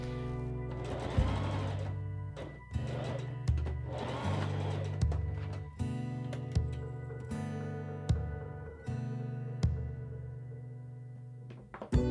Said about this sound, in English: just sew it on there and cut it into the right size